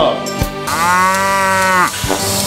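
A cow in a barn at a vocational school's teaching farm in Järvamaa, Estonia, gives one long, deep moo, loud and close, with a couple of clanks before and after.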